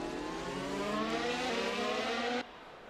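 Stock car engines roar in a sim racing video game on the Marina Bay circuit, a loud, steady high-pitched drone that cuts off abruptly near the end.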